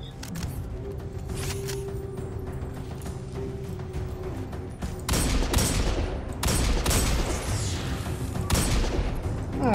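Video game sniper fire and other gunfire cracks out in sharp, loud bursts, several close shots in the second half rising over a rumbling background.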